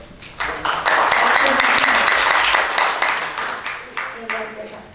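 Audience applause at a workshop for pesantren teachers in Banyuwangi, a burst of clapping that swells, holds, then tapers into scattered claps, with a voice briefly audible near the start.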